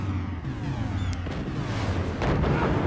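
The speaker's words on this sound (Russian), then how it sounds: "Че ты поставил? Обычную пушку?" Regular cannon firing in the video game Forts, a deep booming blast with rumbling low end that swells and carries through the whole stretch, plus a brief high whistle near the middle.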